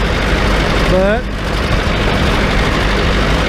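A John Deere tractor engine runs steadily and loudly while tedding, raking and baling hay, a continuous low rumble with a voice speaking briefly over it.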